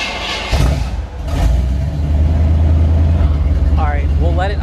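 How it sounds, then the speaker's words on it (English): A Ford Mustang engine idles inside a garage, a steady low rumble that holds throughout, with a voice speaking over it near the end. "we'll let it idle for a little bit, let it warm up, and then we'll pull it out of the garage"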